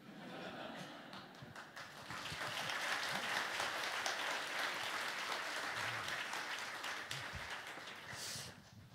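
An audience at a Korean talk event breaks into sustained applause, a steady wash of many hands clapping that swells and holds for several seconds, heard from within the hall.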